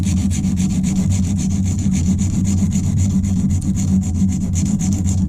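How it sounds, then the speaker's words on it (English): A coarse file scrapes back and forth across a silicon carbide sharpening stone in quick, even strokes, a steady rasping rub heard close up and alone. "Okay, so the coarse file."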